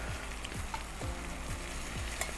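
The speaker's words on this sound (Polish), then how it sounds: "Wątroweczka na patelni i smażymy" Pork liver frying in a pan gives a steady, close sizzle with crackling spatter, with a few soft scraping strokes of a utensil at regular intervals.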